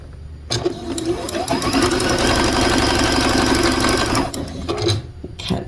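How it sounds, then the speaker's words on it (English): Quilt pieces being stitched on a sewing machine, its motor whirring loud and steady for about four seconds with a rapid, even needle rhythm, starting and stopping cleanly with quieter handling sounds around it. "I'm going to sew these little guys together"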